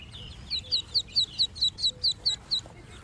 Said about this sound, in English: The ducklings quickly gathered around, chirping and pecking at the food, while Lily watched them from her swing.